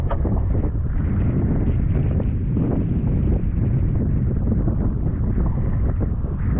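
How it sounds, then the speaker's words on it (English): A small sailboat's engine runs with a cavitating propeller, a steady low churning rumble largely buried under heavy, continuous wind buffeting on the microphone throughout. "You can hear the propeller. I think the propeller's cavitating."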